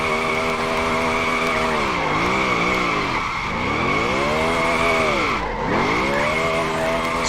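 A NASCAR Truck Series race truck does a celebratory burnout at Phoenix after a win, engine revving in rising and falling sweeps over continuous loud, sustained tire squeal.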